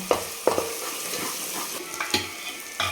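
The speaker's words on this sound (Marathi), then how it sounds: "पण दोन मिनिट परत तेलामध्ये आता परतून घ्यायचं आहे" Mutton sautéing in hot oil for a spiced black mutton dish, a low steady sizzle broken by a few loud close scrapes and clanks of stirring.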